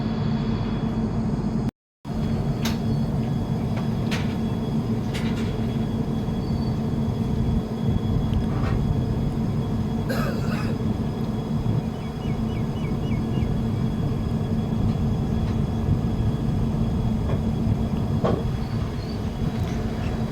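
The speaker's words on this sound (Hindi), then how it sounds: "तो ट्रेन हम लोगों की अब चल पड़ी है हरिद्वार की दिशा में।" Doon Express passenger train rolling toward Haridwar near Jwalapur station in the morning: a steady, loud rumble of wheels on rails with rhythmic clicks and occasional squeals, continuous throughout apart from a brief cut near the start.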